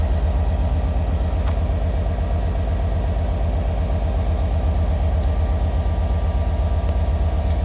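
Train creeping slowly into platform 9 at London Victoria, a steady low engine drone and rumble with faint rail noises, continuous and fairly loud with no talking.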